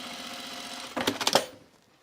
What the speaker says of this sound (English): I'm going to stitch my pocket down blind because I like to see the stitching.